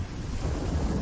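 A Fortnite storm rolls through with low thunder rumbling under gusting wind noise, heard in one brief, dense burst.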